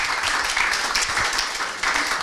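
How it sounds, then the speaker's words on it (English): Applause from a conference audience at an automotive research and innovation session, a dense steady wash of many hands clapping for about two seconds with no speech over it. "So a round of applause for Mario again."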